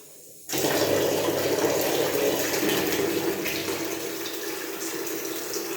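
Water suddenly rushes into a 200-litre flat water heater tank through newly plumbed pipes, a loud, steady gushing hiss that starts abruptly and continues evenly with a slight easing, with no voices over it.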